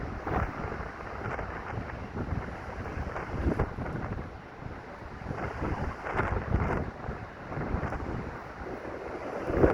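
Strong wind roars and buffets continuously against the microphone, a dense rumbling gust noise with no talking.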